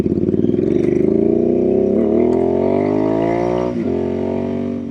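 Royal Enfield INT650 with its 648cc air- and oil-cooled parallel twin and Dustline exhaust, held at a loud, steady rev that rises slowly, then drops briefly near the end and settles back, with no talking.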